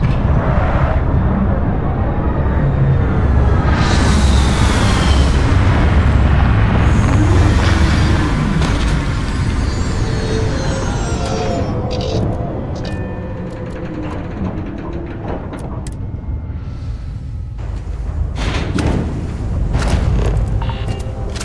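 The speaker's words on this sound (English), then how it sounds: "Landing struts primed. Retros firing." A spaceship's retro thrusters fire as it touches down in the Starfield video game, making a loud, continuous low roar and rumble with hissing bursts and mechanical clunks near the end.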